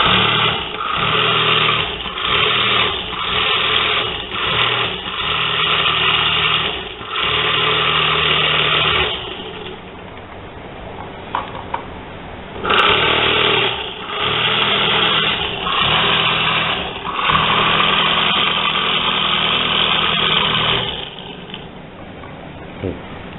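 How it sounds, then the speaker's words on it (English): A vortex mixer whirs in repeated short buzzing bursts, then longer continuous runs, as it mixes samples diluted 200 times in tris buffered saline for a kala-azar dipstick test; the lab bench is otherwise quiet between pulses. "We will vortex this."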